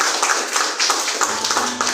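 A church congregation claps together during a worship service, a quick run of bright hand claps repeating steadily and close, with room noise underneath and no talking.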